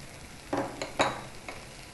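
Urad dal and mustard seeds dropped into hot oil for carrot kootu, a few sharp sizzling bursts and spatters with light stirring between them, close but fairly quiet.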